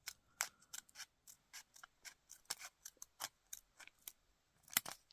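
Scissors trim paper for an origami evergreen tree: a steady run of about twenty crisp, close snips in an even rhythm, with no talk.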